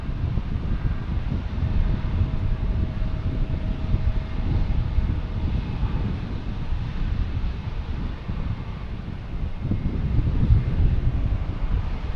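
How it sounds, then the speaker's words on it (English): A Delta Airbus A220 arriving from Chicago at Boston Logan gives a steady low engine roar that holds throughout, with wind buffeting the microphone and no talking. "Next arrival, we have Delta and A220 coming in from Chicago."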